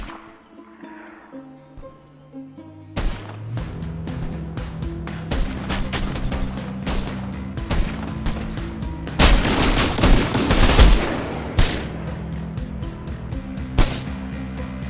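Machine gun fire in the Ratten Reich game, with bursts of rapid shots and scattered louder gunfire over a low battle rumble, plus a dense, intense volley midway. Everything is loud and close, with no talking.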